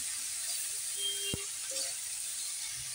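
Spinach greens frying in hot oil with garlic in a pan, a steady close sizzle running alone throughout with one brief sharp click near the middle.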